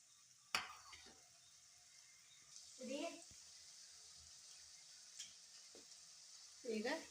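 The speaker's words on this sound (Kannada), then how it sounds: "ಈಗ ಎಣ್ಣೆ ಕಾದೈತಿ ಈಗ ಒಂದೊಂದು ಹಾಕ್ತೇನೆ ನೋಡ್ರಿ" Karchikai, sweet festival dumplings, frying in hot oil make a soft, steady hiss throughout, with a sharp clack early on and brief bursts of voice over the quiet sizzle.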